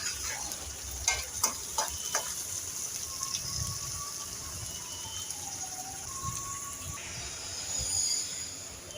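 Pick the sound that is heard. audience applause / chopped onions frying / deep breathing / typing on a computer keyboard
chopped onions frying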